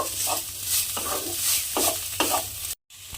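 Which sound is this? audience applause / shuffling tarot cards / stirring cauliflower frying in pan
stirring cauliflower frying in pan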